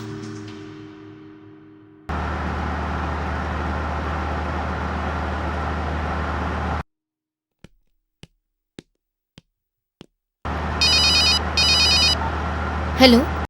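A telephone rings during a call in a Tamil TV drama scene. A steady background drone and a few sharp clicks come first, then short, repeated electronic ring bursts sound close and clear near the end.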